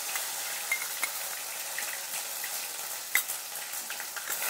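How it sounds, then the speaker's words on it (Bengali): Garlic, ginger and green chili paste frying in a pan with a steady, soft sizzle and occasional light stirring clicks, with no talk. "ভেজে নেব যতক্ষণ না রসুনের কাঁচা গন্ধ চলে যাচ্ছে"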